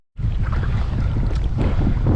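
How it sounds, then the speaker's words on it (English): Strong, relentless wind blows across open water during a redfish fishing trip, a loud continuous rush of buffeting wind noise with no talk. "the wind is relentless still"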